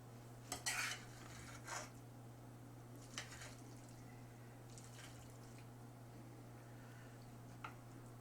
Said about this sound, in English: Now we stuff the squash.